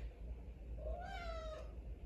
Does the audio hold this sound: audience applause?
no